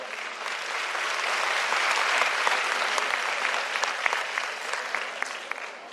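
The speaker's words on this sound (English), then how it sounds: "the applause needs to get louder" Audience applause at a Times of India event after a speaker is introduced, a dense, steady wash of many hands clapping that holds strong for several seconds with scattered sharper claps, no voices over it.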